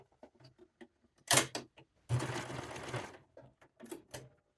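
A serger stitches the underarm seam of a knit top in two loud mechanical whirring runs of about a second each, separated by quieter taps and clicks of the machine close up.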